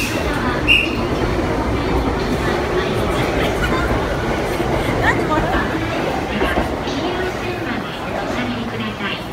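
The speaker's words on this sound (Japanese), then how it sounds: "電車発車です。" JR Yamanote Line train departing a busy Shibuya Station platform, its rumble and wheel noise rolling steadily under crowd chatter and station announcements.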